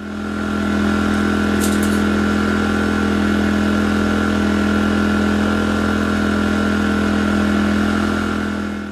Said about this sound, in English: There you go, generator running smooth like new.